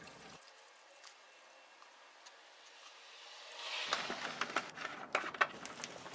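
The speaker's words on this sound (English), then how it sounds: "now all I have to do is bring the full jug over to the saw and just dump it in the strainer on the top" Cutting fluid is dumped from a jug into the coolant strainer on top of a bandsaw, starting after a quiet stretch as a splashing, gurgling pour with small clicks and knocks, fairly close.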